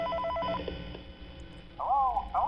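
A telephone rings in the Five Nights at Freddy's 3 video game, two brief trilling bursts near the start and another near the end over a low ambient drone.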